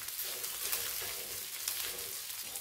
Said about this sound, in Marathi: इथं बटाटे उकडून त्याची साल काढून असं बारीक कट केलेली फोडी थोडंसं परतून घ्यायचं